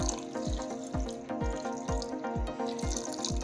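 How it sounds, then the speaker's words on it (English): Water runs into a cooking pot of Edikaikong soup with meat with a steady, rhythmic gurgling pulse, quiet and close, with no voices. "So we're going to add water now to it"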